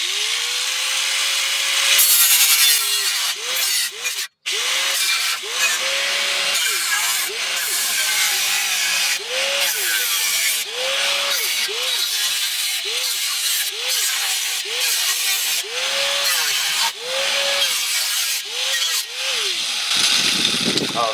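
Brake dust shield on a Lexus SC300/400 being cut off with a power tool, loud close grinding and rasping in repeated strokes with short dips, rising and falling whines between passes.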